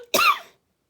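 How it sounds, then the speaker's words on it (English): A single short, sharp cough, close and fairly loud, followed by silence. "Oh, excuse me, coughing."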